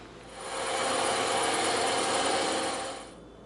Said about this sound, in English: Now we're going to go over to the bandsaw and we're going to cut that out